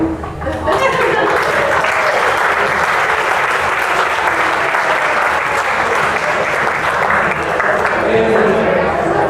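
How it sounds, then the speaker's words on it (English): Wedding guests at an Austin reception break into loud, dense applause after a toast, a continuous roar of many hands that swells quickly and holds steady, with voices mixed into the crowd noise. "Let's give her another big round of applause."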